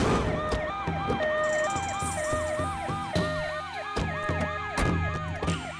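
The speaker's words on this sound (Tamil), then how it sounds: "பாடி எடுத்துட்டு போறதுக்கு ஆம்புலன்ஸ் வந்துட்டு இருக்கு" An ambulance siren, a loud wailing two-tone sweep that repeats steadily and grows nearer throughout, with traffic noise underneath and no speech, on a village road in a Tamil suspense thriller.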